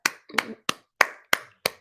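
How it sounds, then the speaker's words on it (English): Six sharp hand claps by a single person, close and fairly loud, spaced unevenly about a third of a second apart with brief silence between each. "I'm going to clap"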